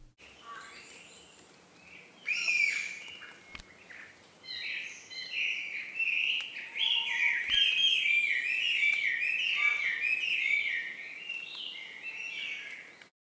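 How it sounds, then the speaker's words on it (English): A flock of birds chirps and tweets steadily in an aviary-like ambience for a papercut nature puzzle game, dense overlapping calls rising after a quieter start and continuing at moderate volume throughout. "The background sounds here are a bunch of birds. It sort of sounds like you're in an aviary."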